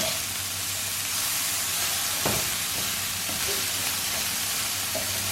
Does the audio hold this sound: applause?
no